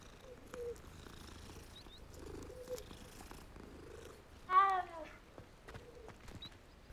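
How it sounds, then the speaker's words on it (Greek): A cat purring in Hogwarts Legacy, a soft steady rumbling purr close up, broken by one brief louder meow-like chirp, with faint ambient birdsong in the background and no talking. "Τι όμορφες γατούλες που έχει το παιχνίδι."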